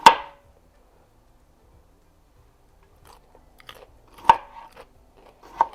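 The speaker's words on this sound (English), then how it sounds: "I love how crunchy they are." Crisp crunching bites into a fresh radish, several close snaps spread across quiet pauses, with softer chewing between them.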